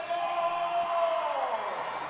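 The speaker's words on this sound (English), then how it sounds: "Crowd's getting into it." Crowd in an arena at a girls' Class C1 state championship basketball game, a sustained, swelling roar of cheering and whooping heard from within the stands, with a commentator's voice faintly beneath.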